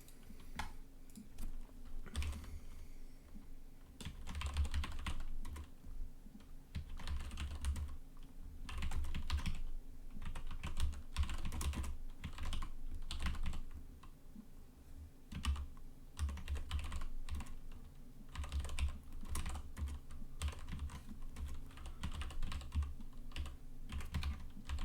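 Rapid, steady typing on a computer keyboard, a dense run of clicking keystrokes close up, continuing without pause and with no talking.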